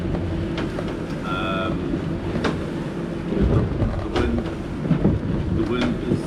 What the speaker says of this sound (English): We are hobby horsing and bouncing up and down against the swell.